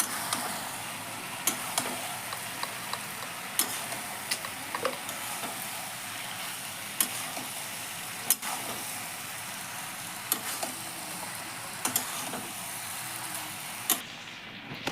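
Soya chilli mixture with soybean chunks being stirred in a hot pan, a steady soft sizzle broken by sharp intermittent ticks and scrapes of the spoon against the pan, fairly quiet with no talking.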